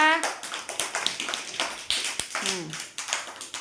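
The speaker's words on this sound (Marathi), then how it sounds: "टाळ्या वाजवा" Children clap their hands in a classroom during a shapes activity, a run of quick, uneven claps close by, with a voice speaking over part of it.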